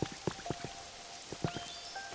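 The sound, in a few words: rain in the video game Pokémon Pokopia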